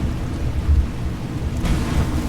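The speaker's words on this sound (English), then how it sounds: "You'll see these guys start getting hit with lightning." Storm Call shout in Skyrim bringing down lightning and thunder, a loud rumbling roar with crackling noise throughout, building into a brighter crash near the end.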